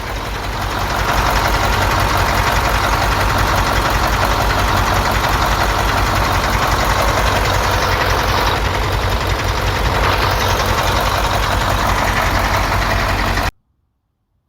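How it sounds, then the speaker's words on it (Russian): A 2013 KamAZ 43118 truck with a 55-series diesel engine and ZF9 gearbox idles loud and close at its first start, a steady low rumbling drone that cuts off abruptly near the end. "Первый запуск мотора у нас, 13-й год машина"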